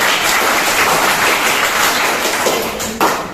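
A group claps together in a dense, steady patter of close hand claps, ending with one sharper, louder burst near the end.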